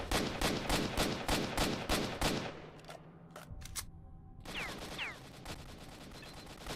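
Rifle gunfire in STALKER: Shadow of Chornobyl comes as about nine rapid, evenly spaced shots, followed by a few isolated shots and then another quicker string of fire, loud and close with no talking.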